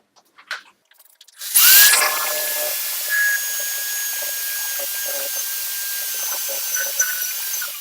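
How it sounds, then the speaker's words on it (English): Power drill boring a hole into a wall, likely into wood backing, to mount a bathroom grab rail; a loud, steady high whine begins abruptly after a few faint knocks and runs continuously to the end. "So we'll drill the next one."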